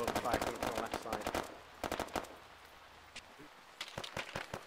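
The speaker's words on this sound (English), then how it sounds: "heavy machine gun fire coming from the left side" Heavy machine gun fire in the video game Arma 3 during an Afghanistan mission: rapid, loud bursts of automatic shots, with a pause in the middle before more bursts resume, and voices talk in places.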